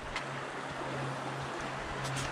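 Water flowing steadily in Justice Creek, a mountain stream along the Appalachian Trail, a continuous broadband rush that stays even and close throughout with no voices.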